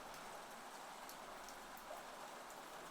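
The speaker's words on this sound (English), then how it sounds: "it'll probably still be raining for a while yet" Steady rain falls outside, a soft, even, continuous hiss with faint scattered drips, heard alone without talk.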